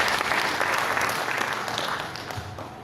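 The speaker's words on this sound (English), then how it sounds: "Keep clapping, keep clapping, keep clapping, keep clapping." A crowd at a youth leaders summit claps steadily, a thick, continuous roll of applause that is loud at first and slowly tapers off toward the end.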